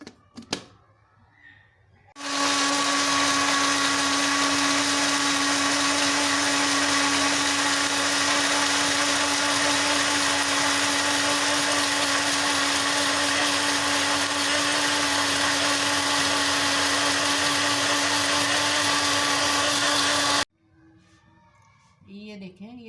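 A mixer grinder blends coriander, mint and green chillies into chutney with one loud, continuous whirring run of about eighteen seconds. A brief quiet stretch comes before and after.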